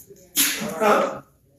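A single loud sneeze close by, a sharp burst that trails off within a second.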